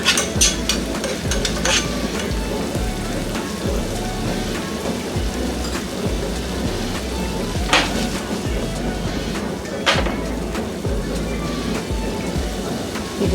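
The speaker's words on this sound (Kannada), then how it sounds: "ಇದನ್ನೆಲ್ಲ ಲೋ ಫ್ಲೇಮಲ್ಲಿ ಇಟ್ಕೊಂಡು ಫ್ರೈ ಮಾಡ್ಕೊಳ್ಳೋಣ" Egg 65 pieces in their spiced coating fry on a low flame, giving a steady, close rain-like sizzle with a few sharper pops and crackles throughout.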